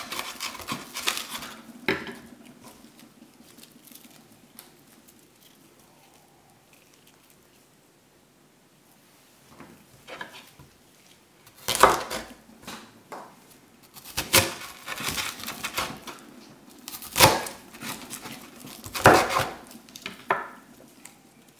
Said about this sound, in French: l'oignon rouge, je le coupe grossièrement